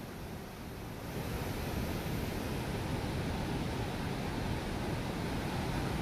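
A river in flood after heavy rain rushes past Banej tirth in the Gir forest of Gir Somnath, a steady, dense roar of water filling the whole stretch with no voices.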